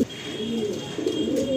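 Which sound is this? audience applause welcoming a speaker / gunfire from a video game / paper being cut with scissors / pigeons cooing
pigeons cooing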